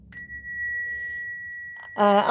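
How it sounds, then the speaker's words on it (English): A single clear, high bell-like chime rings out and sustains for nearly two seconds, fading slowly before someone begins speaking close up. "Maybe Spirit wants us to do a little chimes to come in."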